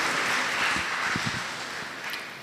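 Audience applause at a Brahma Kumaris inauguration ceremony for Peace Palace in Faridabad, a dense wash of clapping filling the hall, fading slightly toward the end.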